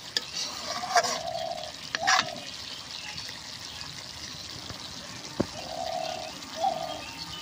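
Homemade castor oil bubbles and sizzles steadily in a wok as it separates from the seed residue, with a few louder clanks and scrapes of stirring breaking in now and then.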